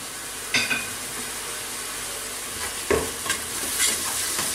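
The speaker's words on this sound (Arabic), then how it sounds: "خديت لهنايا الزيت والبصل، راني ديت ديجا نحمص فيهم" Onions frying in oil in a pan for a lentil dish's tomato sauce, a steady faint sizzle with a few sharper spoon-stirring scrapes, no talking.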